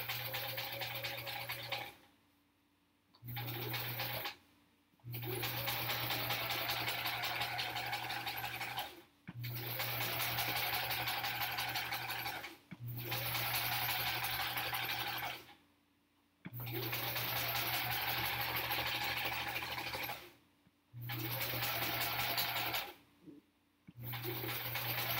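A sewing machine stitches a quilt block for a sampler quilt-along in a steady, even hum, running in repeated stretches broken by short silent pauses, close and moderately quiet.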